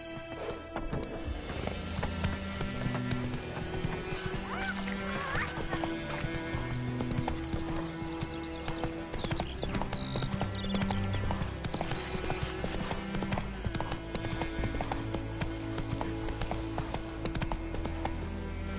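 Steady galloping hoofbeats from Roach, the horse in The Witcher 3, drum on continuously with an occasional neigh, layered over a busy in-game background of music and ambient sound.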